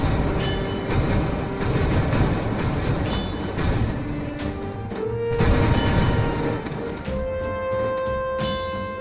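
Big explosions in a video game tank fight with Abrams-turret tanks and side-mounted howitzers: a dense, continuous wash of loud blasts and gunfire-like bursts, with steady beeping tones threaded through the din.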